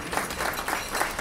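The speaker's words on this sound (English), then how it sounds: "Give yourselves another round of applause" A banquet audience gives itself another round of applause, a soft, distant patter of many hands clapping steadily for a short moment.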